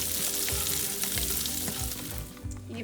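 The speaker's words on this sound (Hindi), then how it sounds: "ग्रीन चिलीज इन्हें फ्राई कर लेंगे। हल्का सा हम इसे सौते करेंगे।" Green chilies fry in hot oil for a Chicken Manchurian curry, giving a dense, steady sizzle close by with faint stirring ticks underneath.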